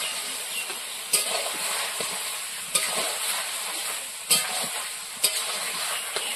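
Chicken curry (murgir mangsho) being stirred and fried in a pan over low heat, with a steady oily sizzle and a few sharp spoon scrapes against the pan at irregular intervals.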